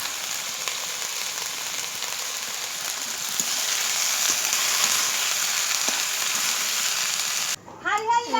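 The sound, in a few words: frying Malabar spinach fruits in oil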